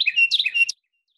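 A Carolina Wren's song played back through a computer speaker: a quick run of bright, loud chirped notes lasting under a second, then silence.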